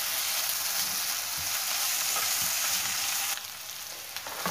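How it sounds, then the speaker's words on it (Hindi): Ginger and garlic fry in a pan for a goat brain masala, giving a steady, close sizzle that runs throughout and drops slightly in level near the end, with no voices. "अदरक और लहसुन डालने के बाद मैं इसे तकरीबन 2 मिनट तक कुक करूंगी"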